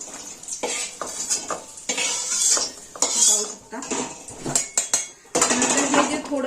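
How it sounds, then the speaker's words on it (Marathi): Fried ingredients for a makhana chivda being scraped from a pan onto a plate, with repeated clinks and scrapes of a utensil against metal dishes and a light sizzle underneath, close and fairly loud, no talking. "मी हे सगळं त्याच ताटात काढून घेतलं"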